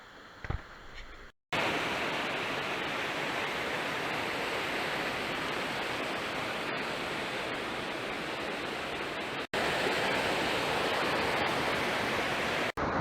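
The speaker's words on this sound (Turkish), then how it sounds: "Hemen şu arkam Gülpınar Şelalesi döküldüğü yer." Günpınar waterfall pours down inside a canyon, a loud, steady broadband roar of falling water that fills the scene after a brief quieter start and continues almost without pause.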